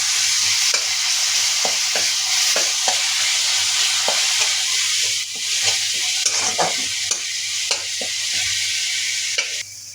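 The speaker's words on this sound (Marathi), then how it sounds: "आता आपली मिरची परतून झालेली आहे" Ground green chili sautés in ghee in a pan with a loud, steady sizzle. Repeated scraping and stirring strokes come close throughout.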